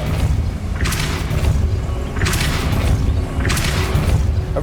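Depulso repelling spell cast in Hogwarts Legacy: three evenly spaced whooshing blasts with a thumping impact each, loud over a constant rumbling game background.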